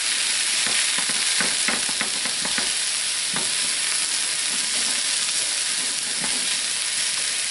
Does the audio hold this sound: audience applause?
no